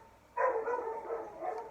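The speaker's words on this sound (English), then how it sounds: "Oh my goodness, dogs, be quiet." Dogs bark indoors in a short burst of loud barking that starts abruptly and continues for over a second before easing.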